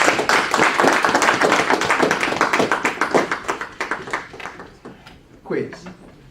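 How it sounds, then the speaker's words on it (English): A crowd at an alumni association inauguration dinner applauds in a loud burst, the clapping gradually thinning into scattered individual claps before a voice briefly speaks. "Let's give another round of applause."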